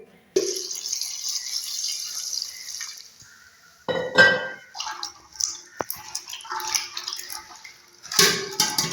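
Soaked chickpeas are washed in water, with a tap running, then splashing, swishing and clinking of the legumes in a bowl in irregular bursts separated by brief pauses.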